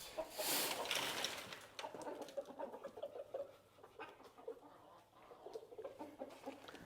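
A flock of chickens cluck and chatter at feeding time, several birds calling in quick irregular bursts at moderate distance, with a louder rustle at the start.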